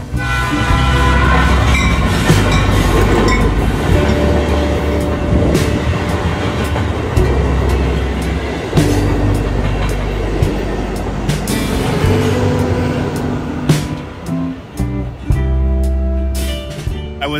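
A train passes close by, a loud, continuous rumble of rail cars with clattering wheels and a horn, sustained throughout with no talking.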